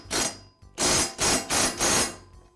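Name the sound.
bolt being tightened to secure a Husqvarna lawn mower blade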